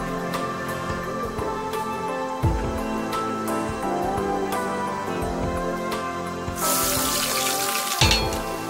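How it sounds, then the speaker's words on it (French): Rice frying in oil in a pan for a peanut sauce dish, giving a steady crackling sizzle with scattered pops and a few dull knocks. The sizzle swells louder near the end. "Voilà la raison pour laquelle je vais un peu griller dans l'huile."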